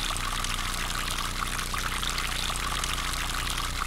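Running water in the horror game P.T. (Silent Hill): a steady, dense rushing and pouring wash that stays constant and fairly loud throughout, with no breaks or talk.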